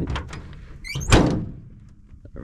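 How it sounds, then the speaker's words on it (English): A door swung shut with a short creak and a solid thunk, close and fairly loud, followed by a quiet lingering rumble. "Did I shut that door all the way?"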